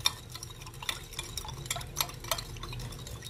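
Brown sugar stirred into water in a pan, a series of light scraping and clinking strokes of a utensil against the pan, irregular and close, fairly quiet with no talk.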